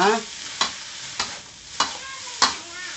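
Instant noodles stir-fried with meat in a hot pan: a steady sizzle with four sharp spatula scrapes at even intervals, close and clear, no voices.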